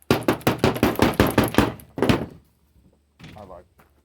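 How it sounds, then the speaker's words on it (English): A rapid run of about eight dull, solid taps from a rubber mallet on threaded parts while replacing tines on a New Holland hay rake, followed by a pause and a faint knock or two. "I just use a rubber mallet so I don't screw the threads up too much."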